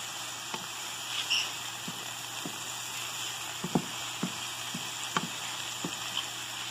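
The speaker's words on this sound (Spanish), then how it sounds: "Voy a dejar que se fría por unos minutitos para que el pimiento se ablande." Peppers and onion frying in a pan over medium heat, a soft steady sizzle with scattered small pops and crackles, no talking.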